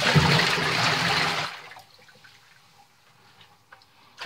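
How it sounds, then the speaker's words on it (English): Water gushes and splashes out of a container for about a second and a half, then trails off into quiet drips. "So now what I'm gonna do is dump this water out."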